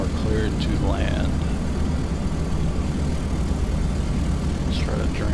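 A Beechcraft Super 18 propeller aircraft on landing approach with full flaps and gear down, a loud steady engine and propeller drone heard from inside, with faint voice-like tones over it.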